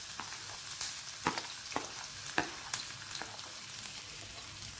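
Sliced ginger and garlic sautéing in hot coconut oil with curry leaves, a steady close sizzle broken by sharp clicks and scrapes of a spoon stirring the pan, with no voices.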